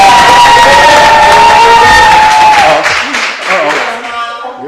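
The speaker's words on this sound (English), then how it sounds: "Let's give her one applause." An audience at a teen talk show with a dance guest applauding and cheering loudly, a dense wash of clapping and shouts with a sustained whoop that fades toward the end.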